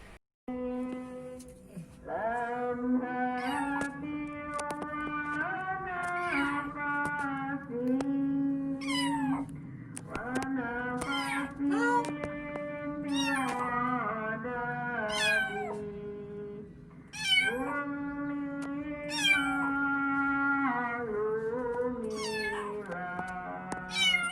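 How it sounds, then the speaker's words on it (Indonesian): A kitten trapped inside a pipe meows repeatedly and insistently, long wavering cries one after another with a slightly hollow, resonant quality, loud and close. "Sempet hilang sekitar semenit, tapi ternyata masih ngeong-ngeong lagi."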